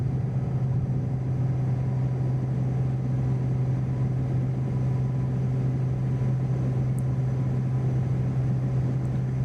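Piper Turbo Arrow single-engine plane at roughly three-quarter takeoff power in Microsoft Flight Simulator, a steady droning engine hum with a strong even tone that holds unchanged throughout.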